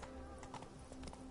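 Hooves of Roach, a horse in The Witcher 3, clip-clop in a steady quick rhythm under a constant tonal game backdrop, with no talk.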